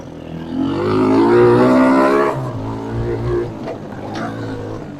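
A Suzuki LT160 quad bike that sat unused for three years starts to drive off, its engine rising to a loud, close rev and then settling to a rougher, lower idle-like drone.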